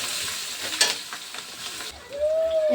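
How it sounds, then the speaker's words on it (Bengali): Onion, garlic, chili and cumin fry in hot oil in a wok, giving a loud close sizzle with stirring scrapes, ending in a short squeak from the utensil. "এটি আমি এখানে দেব কড়াইয়ে। পেঁয়াজ দিলাম, রসুন দিলাম, লঙ্কা দিলাম, জিরে দিলাম,"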